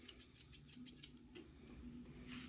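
Grooming scissors snip through a dog's coat in a quick, repeated rhythm of close, crisp cuts, running steadily across the whole stretch with no talking.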